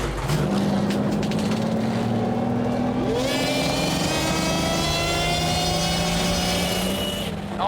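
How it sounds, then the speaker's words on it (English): Supercharged car engines start and rev, a loud sustained roar with a rising whine that climbs in pitch as the revs build, heard up close and alone. "Boys, let's start our engines."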